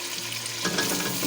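Minced meat with carrots and potatoes fries in a pan, a loud continuous sizzle close up that swells slightly as it is stirred, no talking.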